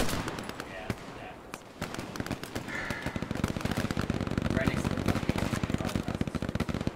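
Rapid bursts of MG42 machine gun fire in the World War II shooter Hell Let Loose, a dense rattling stream of shots building and continuing steadily through the clip amid other battlefield noise.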